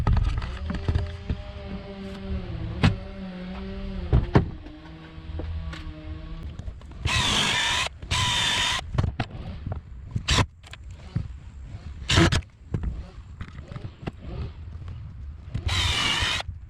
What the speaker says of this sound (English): So next thing I need to do here is just drill these bad boys in